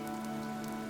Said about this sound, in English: This rain threatens a coming storm.